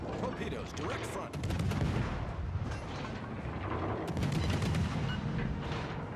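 Naval gunfire in the warship game with the cruiser Jinan: repeated booming salvos and shell impacts crackling in a dense, continuous barrage, with game ambience throughout.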